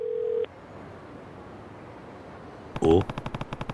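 Phone ringing tone in the Yakuza Kiwami 2 video game: a brief steady tone at the start, then a loud burst followed by a rapid run of evenly spaced pulses near the end.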